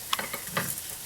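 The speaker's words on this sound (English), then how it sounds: "so our fritters have been frying for a bit." Kale, quinoa and sweet potato fritters frying in a pan give a steady close sizzle, broken by a few soft scrapes and taps as they are turned.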